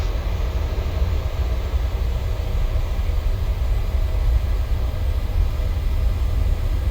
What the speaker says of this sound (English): Okay, rolling takeoff.